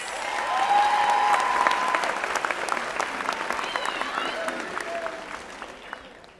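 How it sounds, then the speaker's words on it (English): A crowd at an annual Black celebratory event bursts into loud, sustained applause that slowly thins into scattered claps, with a few cheers mixed in. "Please give them another round of applause."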